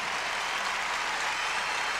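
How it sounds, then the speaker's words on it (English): Steady crowd applause for a figure skating performance in an arena in Tampa, a dense, even wash of clapping with no breaks. "A respectful, appreciative hand from this crowd here in Tampa"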